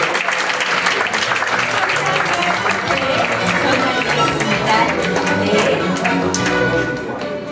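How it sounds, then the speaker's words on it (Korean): An audience claps for a winner at an award ceremony for international peace contributions, held in a small meeting room in the National Assembly members' office building. The dense, steady applause lasts several seconds and eases slightly at the end. "축하의 박수가 필요할 것 같습니다."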